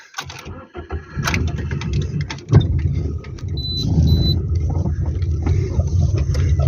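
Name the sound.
GAZ truck engine as they drive off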